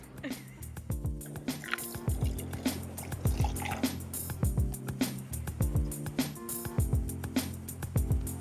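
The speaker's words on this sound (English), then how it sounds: "There's no wrong way to pour cider." Cider poured from a bottle in San Sebastian, producing a repeated series of gurgling glugs with rising tone as the glass fills, close and clear, rhythmic bursts spaced roughly every second.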